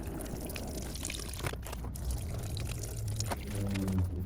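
Old fluid drains out of a motorcycle in a steady pour and trickle, with a faint gurgle toward the end and some light shop clatter.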